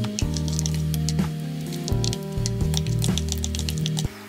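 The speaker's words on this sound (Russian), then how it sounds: "Опять все хорошо перемешиваем до однородной массы." A spoon stirs a yogurt face mask mixture, soft wet squishing strokes repeating in an uneven rhythm over steady background music.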